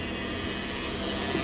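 A Leblond Regal 36 x 144 inch lathe with its spindle turning at speed gives off a steady, dense mechanical whir and hum, close and unbroken, with no voices.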